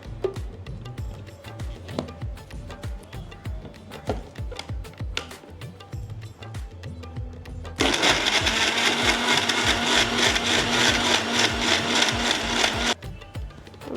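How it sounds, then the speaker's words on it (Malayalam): Soaked dates and milk ground into a shake in an electric mixer: scattered knocks and clatter at first, then a loud steady whirring grind lasting several seconds before it cuts off. "ഇനി നമുക്കിത് അരച്ചെടുക്കാം"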